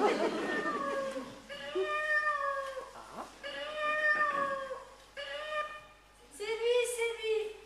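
A cat meows repeatedly in a children's theatre show, several drawn-out, wavering cries in a row, loud and close, with short pauses between them.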